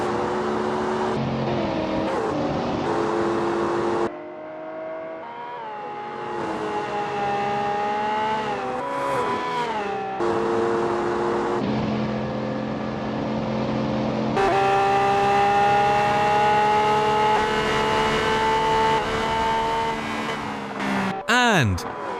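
Koenigsegg Jesko and Lamborghini Revuelto hypercars drag racing, loud sustained engine whine climbing through repeated gear shifts, with a quick whooshing sweep near the end as a voice commentates over it.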